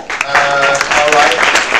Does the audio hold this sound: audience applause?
yes